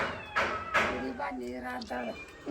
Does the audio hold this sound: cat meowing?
yes